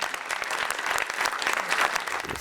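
Applause from an audience at a sea-memories festival award ceremony as a prize winner joins the stage, dense steady clapping filling the room with a few louder bursts.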